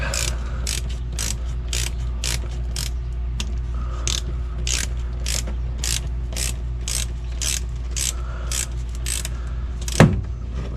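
A ratchet wrench loosening a 10mm bolt on a 2011 Toyota Tacoma during VVT solenoid work, with regular rapid clicking strokes, close and steady, and a sharp metallic clink near the end.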